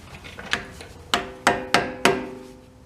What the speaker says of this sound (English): I'm going to grab a flat head and pound out the bent part here